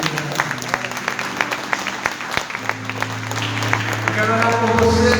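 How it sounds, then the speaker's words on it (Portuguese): A church congregation standing and applauding during a Sunday morning service, steady clapping throughout with sustained tones from worship music underneath and some voices mixed in. "Vamos aplaudir o Rei,"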